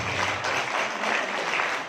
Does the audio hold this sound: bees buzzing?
no